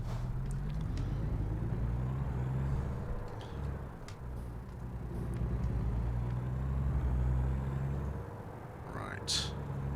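A truck engine in American Truck Simulator roars steadily at high volume, its deep drone swelling as it accelerates through the gears, with a brief dip midway and a short hiss near the end; someone talks over it.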